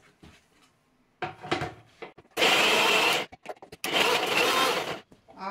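An electric grinder whirs loudly through soaked moong dal in two bursts of about a second each, with clunks and handling knocks of the jar before, between and after.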